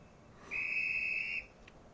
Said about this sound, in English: You may have just heard the guard's whistle and seen the flag, which means we are free to go.